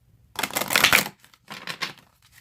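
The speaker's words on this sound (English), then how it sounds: "I just kind of like to give them an extra shuffle to kind of wake them up." Tarot cards are shuffled by hand in two bursts, a loud riffling flutter followed by a shorter, softer series of shuffles in a quiet room.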